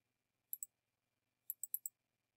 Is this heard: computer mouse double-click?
yes